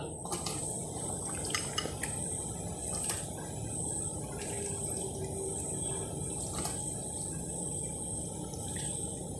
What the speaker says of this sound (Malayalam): ചാറ് നന്നായിട്ട് വെട്ടി തിളച്ചിട്ടുണ്ട്